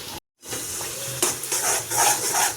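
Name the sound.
onions frying in oil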